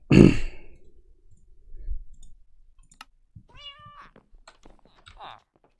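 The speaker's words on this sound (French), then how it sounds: "C'est bon, j'ai un chat." A cat in the video game Minecraft gives a few short, clear meows after a sharp opening click, set against a quiet background with faint movement.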